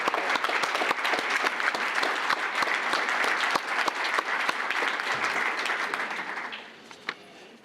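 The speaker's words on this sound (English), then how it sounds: "please stand up and be recognized with a big round of applause" Loud, continuous audience applause fills an awards and installation ceremony for a realtors' association, holding steady for several seconds before thinning out and fading near the end.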